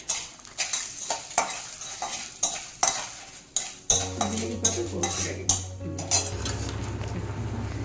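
Spices and asafoetida crackle and pop in hot oil for amla pickle, with repeated sharp bursts, then a steady sizzle settles in under a few metallic stirring clinks.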